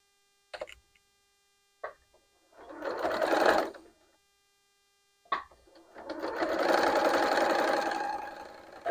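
A sewing machine stitches quilt fabric blocks together in short bursts: brief taps, then two longer whirring runs of rapid needle chatter, close and clear with no talk.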